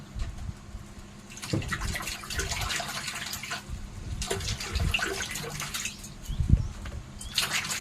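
Tap water running and splashing as vegetables are rinsed in salted water in a sink, a steady close gush with bursts of sloshing and handling noises, no voices.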